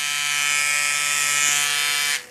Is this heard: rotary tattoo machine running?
yes